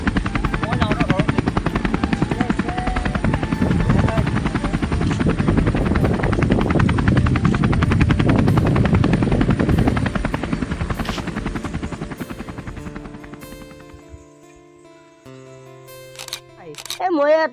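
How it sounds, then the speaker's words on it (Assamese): A helicopter passes overhead with loud, steady rotor chopping and engine roar for about twelve seconds, then the noise fades away, leaving quieter scattered sounds and a few faint tones. "এতিয়াতো হেলিকপ্টাৰো আহিল দেখোন"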